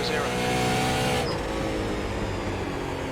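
A Super Late Model race car in the iRacing game roars through a corner, a loud sustained engine note that drops in pitch as it comes off the turn, with a voice talking over it.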